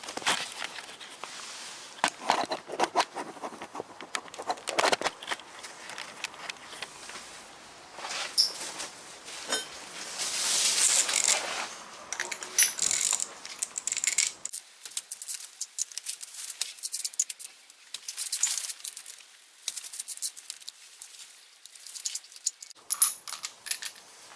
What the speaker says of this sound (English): Right, I'll put it on the stand and we'll pull the plugs.